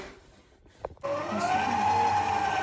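A Karaca Mastermaid kitchen machine kneading çiğ köfte spins up after a few faint clunks into a steady motor whine, rising slightly in pitch and running on at speed 4.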